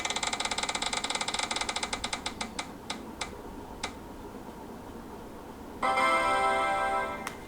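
A spinning wheel picker on a screen ticks rapidly at first, then the clicks slow and spread apart until it stops, followed by a brief chime-like tone near the end.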